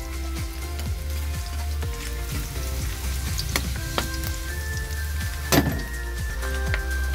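Garlic sautéing in a pan while cooking corned beef, a steady close sizzle with scattered crackles and a few brief clinks of stirring throughout.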